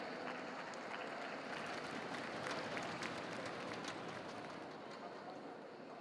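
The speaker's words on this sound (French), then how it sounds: "je vous prierai une bonne main d'applaudissements pour les majors de la promotion" Applause rises from the audience at a 2024 graduation ceremony honoring top graduates, a dense, continuous patter of many hands heard faintly and from a distance, holding steady throughout.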